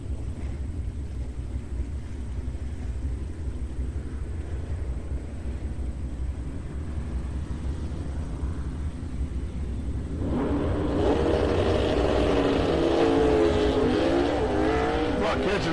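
Drag cars, including a small-block Chrysler 273 with a 4-speed, run at TriState Raceway, a steady engine drone before a loud launch roar that swells and carries on, with an announcer talking over it.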